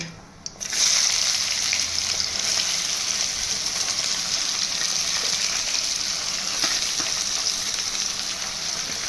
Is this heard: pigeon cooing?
no